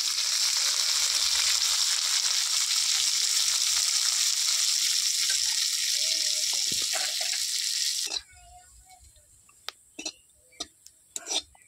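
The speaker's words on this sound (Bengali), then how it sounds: "এবার ওইটা ঘির মধ্যে একটু ভেজে নেবো।" Soaked, drained cashews and raisins fry in ghee with a loud, continuous crackling sizzle for about eight seconds, then the sizzle stops and only a few sharp clicks and knocks follow.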